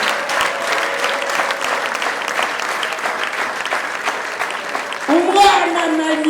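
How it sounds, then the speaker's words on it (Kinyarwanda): A church congregation applauds in steady, full clapping that carries on throughout, with a tonal musical sound joining near the end. "Mwaha Yesu amashyi mukamushimira."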